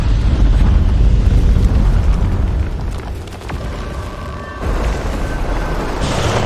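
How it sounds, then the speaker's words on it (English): A bloodstone explosion in the video game Guild Wars 2 gives a loud, sustained booming rumble that dips briefly midway and swells again with a faint ringing, magical tone layered over the roar. "That bloodstone explosion seemed to trigger some sort of magical echo."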